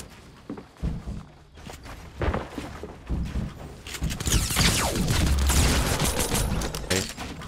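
Pistol gunfire in a Fortnite Battle Royale match at Risky Reels: scattered sharp shots and thuds early on, then a dense, loud burst of rapid fire in the middle before it thins out.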